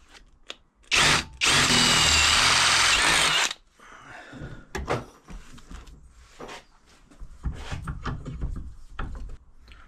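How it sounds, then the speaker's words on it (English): A power drill whirs loudly up close for a couple of seconds during frame repairs on a 1997 Suzuki RM250 dirt bike, then stops, followed by scattered knocks, scrapes and handling noises. "let me find a drill that's somewhere near that"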